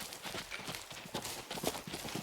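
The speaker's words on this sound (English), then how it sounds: "I heard footsteps really close." Quick, heavy animal footsteps thud close by in a hunting video game, an irregular run of hoof-like clops over a rushing, noisy outdoor ambience.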